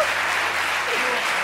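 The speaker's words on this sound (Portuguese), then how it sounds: "Um aplauso para Antônio Simões." An audience applauds Antônio Simões, a steady, loud wash of clapping that fills the whole moment without talk.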